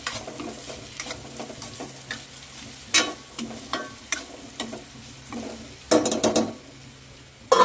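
Kankoda (spiny gourd) and onion curry with fresh coriander being mixed in a pan: low sizzling under intermittent scraping and clinking of a spoon against metal, with a few sharper knocks.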